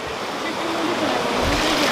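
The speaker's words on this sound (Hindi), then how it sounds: "हम पहुंच चुके हैं सप्तकुंड की धाराओं में।" Hot spring water streams flowing at Saptakund near Badrinath, a continuous broadband rush of running water, close and fairly loud, steady throughout.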